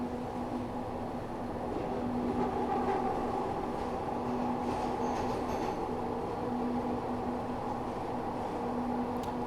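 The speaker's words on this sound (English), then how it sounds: "I wonder if this audio is actually taken from the Glasgow Subway." A Glasgow Subway train runs through a tunnel in the Train Simulator Classic game: a continuous rumbling, droning ride with a steady motor whine and light rattles, fairly even in level throughout.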